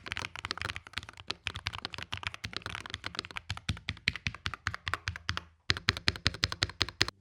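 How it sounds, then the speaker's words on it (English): Rapid typing on a full metal-cased Hall effect keyboard with magnetic switches, crisp close keystrokes in a quick irregular rhythm with a brief pause near the end. "it is a full metal cased keyboard with magnetic switches that sound pretty good"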